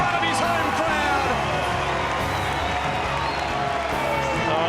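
A home crowd in Australia roars and cheers after a goal in a Champions Trophy field hockey match, with dense, sustained cheering, whoops and clapping filling the whole stretch.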